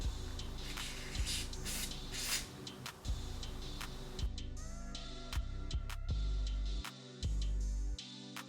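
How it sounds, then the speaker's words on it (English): Hair spray hisses along the edges of a cinnamon brown deep wave wig during an install, several short close bursts over faint rustling and a low background hum. "actually spray some of the spray along the edge"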